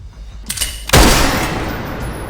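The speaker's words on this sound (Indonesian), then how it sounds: "Tembakan dilepaskan." Gunfire in a Korean crime drama: a few faint sharp cracks, then one loud close blast with a lingering reverberant tail.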